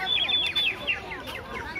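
Many small birds chirp and tweet in a busy overlapping chorus at a hilltop park on Penang Hill, the calls close and fairly loud with no talk over them.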